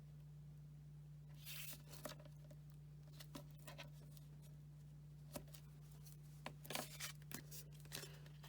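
Release paper peeling off an adhesive backing during card making, heard as faint, short crinkly tearing and rustling bursts scattered across a quiet background with a steady low hum.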